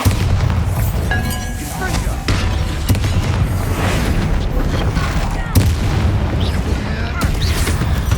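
A Bombarda blasting spell from the Hogwarts Legacy video game erupts in loud booming explosions, with several heavy blasts and cracks over a constant low rumble, and a voice speaking over the game sound.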